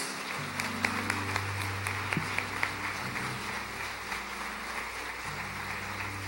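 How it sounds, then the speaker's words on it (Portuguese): A church congregation claps for Jesus at the close of a service: a soft, even wash of many hands, somewhat distant and low in level, with faint voices and a low hum beneath. "Então vamos dar uma salva de palmas para Jesus"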